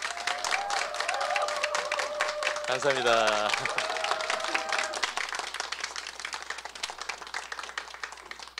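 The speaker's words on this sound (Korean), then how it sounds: "큰 박수." An audience applauds steadily at a choir's regular concert, dense clapping throughout while someone briefly speaks and a voice rises over the middle stretch.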